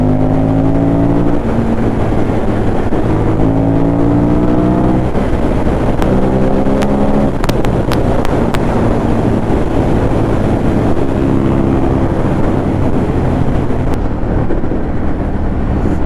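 A Ducati Monster 821 motorcycle engine runs on a ride, with revs climbing in repeated stepped pulls through the gears under steady, loud wind rush, and no talking.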